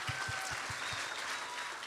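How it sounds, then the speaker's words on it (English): An audience at a Pedal The Cause cancer fundraising event applauds, producing a fairly soft, even patter of clapping with a few low thumps at the start. "Yeah, that deserves a round of applause."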